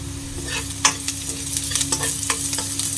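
Finely chopped ingredient fries in oil for an egg gravy while being stirred, a dense close sizzle with frequent scraping and clacking strokes of the spoon in an uneven rhythm, with no voices.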